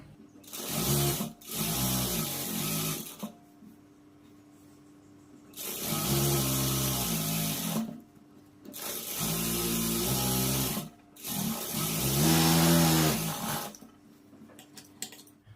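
Sewing machine stitching a blouse seam, running in four loud bursts of rapid mechanical whirring separated by short pauses, close by with no talking.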